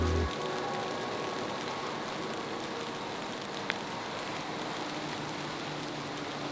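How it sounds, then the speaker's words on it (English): Rain begins falling outdoors in Arizona, a steady even hiss of drops on surfaces with one brief tap, close and fairly quiet, without speech. "it's starting to rain"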